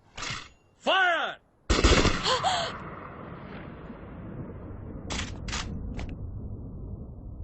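Animated-film gunfire rings out in a couple of loud, sharp volleys with ringing, whistling tails, followed by a lingering rumble and a few fainter later shots, with no talk over them.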